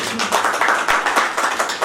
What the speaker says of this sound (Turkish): Bir alkışlayalım o zaman